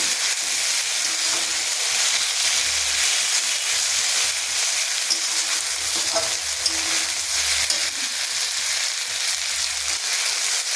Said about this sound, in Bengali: এবার নাড়তে থাকবো।